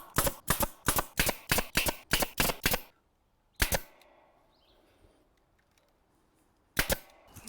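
Small fastening gun firing into scrap wood while building a soil sifter: a rapid volley of about ten sharp, loud cracks, then two more isolated shots after pauses, with quiet between.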